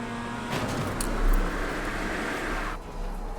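Race car engine in iRacing during a wet qualifying session, a steady loud road-car drone with a swell near the middle and a drop in the upper hiss toward the end, with no talk.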